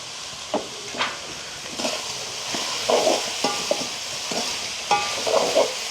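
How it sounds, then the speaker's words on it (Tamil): Vegetables sautéing with a little salt in a pan in a village kitchen, a low steady sizzle broken by repeated scraping stirs of a utensil against the pan, close and fairly quiet with no talk. "இப்படியே மிரக்கறிகள் எல்லாம் வதங்கட்டுக்கு."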